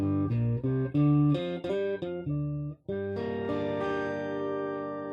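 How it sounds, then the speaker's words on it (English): Electro-Harmonix HOG guitar pedal producing a simulated organ tone, a run of sustained chords and notes played one after another with a brief gap before a final held, swelling chord, close and alone. "So that's pretty good organ sound."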